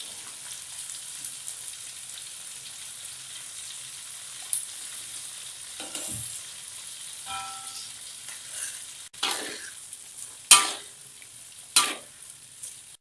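Steady low sizzle of fermented lampam jawa fish frying in oil, with occasional sharp pops and clatter of stirring toward the end.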